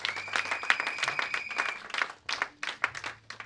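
Church congregation applauding and cheering the Lord during a French-language sermon, a steady roomful of clapping with a sustained high vocal tone over it, fairly loud and continuous.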